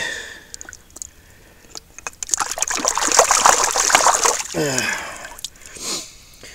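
Water splashes and trickles while clay is rinsed and rubbed off a Vulcan metal detector, an uneven run of pouring and splattering that swells in the middle and then eases off.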